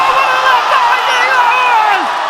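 A crowd roars and whoops at a muay thai fight in Rajadamnern Stadium, loud and sustained, with an excited voice rising over the cheering.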